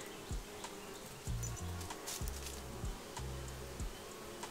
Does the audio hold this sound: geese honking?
no